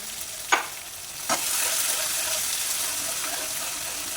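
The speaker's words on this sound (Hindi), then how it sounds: "इसमें थोड़ा सा पानी का छींटा देंगे हम" Two quick splashes of water hit a hot pan of frying garlic paste and green chilli mince, followed by a loud, hissing sizzle that spreads and stays steady.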